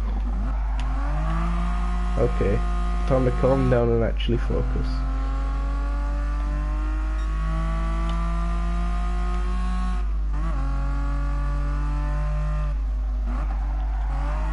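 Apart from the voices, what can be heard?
road car driving in the video game GT Sport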